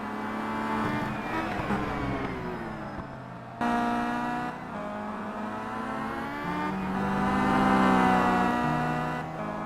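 A Chevrolet touring car in a WTCC-class sim race at Laguna Seca, engine droning and shifting pitch through gears as it laps, steady and fairly close, with a sharp change in tone partway and rising revs later.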